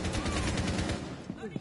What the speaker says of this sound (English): You kept shooting me over and over again